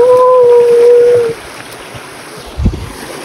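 A waterfall beside farm fields gives a steady, moderately loud broadband rush throughout, with a thin tonal hum in the first second and a brief low thump near the end.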